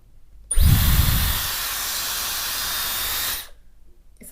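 A Dyson hairdryer with its nozzle taken off switches on with a thump and blows a loud, steady airy hiss and high whine for about three seconds before cutting off cleanly.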